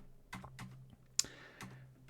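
Fingers typing on a computer keyboard, a short run of close, crisp keystrokes and clicks with brief pauses between them, alone with no talking.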